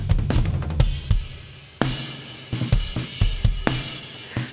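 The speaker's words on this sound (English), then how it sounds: "Let's add in some drum reverb." Mixed worship-style drum kit with added reverb, kick, snare and cymbal hits in a groove, each hit trailing into a roomy wash, moderately loud and alone.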